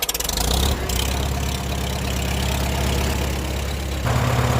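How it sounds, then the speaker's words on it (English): An antique tractor engine turns over and settles into a loud, close, steady idle, its rhythmic low chugging continuing throughout and deepening slightly near the end. "if your butt ain't in the seat, don't start an antique tractor"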